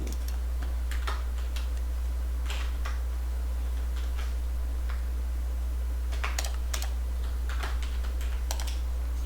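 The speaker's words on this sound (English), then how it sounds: "There's too few buttons on the keyboard for how many things I need to do." Fingers tap a computer keyboard in short irregular bursts of crisp clicks, with a steady low hum running underneath and no one speaking.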